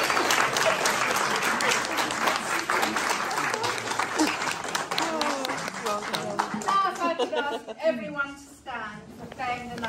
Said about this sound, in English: would you please give a great big round of applause for our new